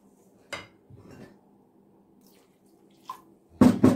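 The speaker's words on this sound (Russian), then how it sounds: "Все хорошенько перемешиваем." A thick marinade for beef basturma, with the consistency of sour cream, stirred in a bowl: a few soft scrapes and clinks spaced apart, ending in a louder, brief bout of stirring and clatter, close and alone.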